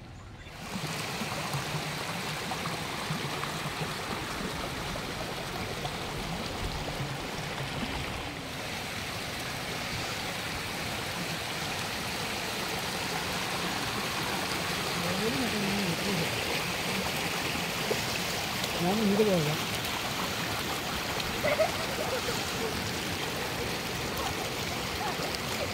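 After heavy rain in the Nilgiris, rainwater rushes down a road carrying stones toward the main road, a steady, moderately loud flowing and gurgling wash that continues throughout.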